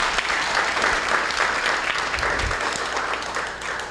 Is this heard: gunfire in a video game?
no